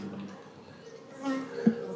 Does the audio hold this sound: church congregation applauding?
no